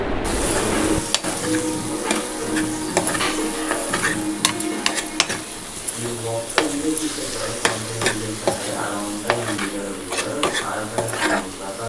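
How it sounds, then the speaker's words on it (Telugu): Paneer cubes are stirred gently through a thick cashew gravy in a pan, producing a continuous simmering sizzle with repeated spoon scrapes and clinks against the vessel. "క్యూబ్స్లా కట్ చేసుకున్న పన్నీర్ పీసెస్ని వేసుకుని నిమ్మితంగా బాగా కలుపుకోవాలి"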